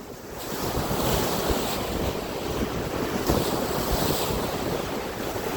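Waves washing onto a shoreline make a continuous broad roar, with wind buffeting the microphone throughout and no other sounds.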